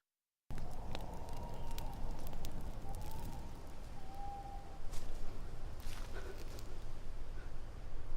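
Steady rushing wind in dark woods with a low rumbling roar, starting abruptly after a moment of silence and gusting slightly louder toward the end.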